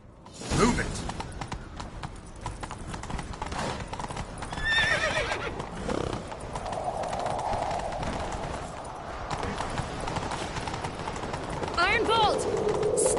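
Horses in a video game chase, hooves clip-clopping at a gallop with neighs and whinnies breaking through, set against game music and effects, with voices shouting over the action.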